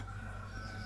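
A chicken sounds close by, one short continuous call filling the brief moment, with no talk over it.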